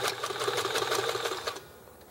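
A sewing machine stitches a seam on a drawstring bag, a fast, even mechanical rattle of needle strokes running close for about a second and a half before stopping abruptly.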